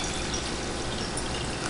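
Citrus-infused vinegar pours steadily into a filter, a continuous close liquid rush with no breaks and no voices over it.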